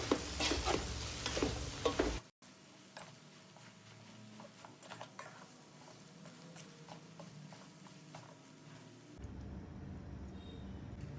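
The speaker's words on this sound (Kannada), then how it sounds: "ಒಂದು ಐದರಿಂದ ಆರು ನಿಮಿಷ ಕಾಲ ಇಟ್ಕೊಂಡು ಚೆನ್ನಾಗಿ ಫ್ರೈ ಮಾಡ್ಕೊಳ್ಬೇಕು" Boti (goat tripe) fries in oil in a pan for gojju, with a burst of close stirring clatter at first, then a faint, steady sizzle dotted with soft ticks and pops.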